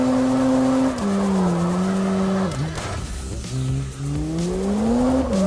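A car engine whines at steady revs in a video game, dipping and rising as it drifts, with rough tire-squeal texture in the middle; loud and continuous, no talking.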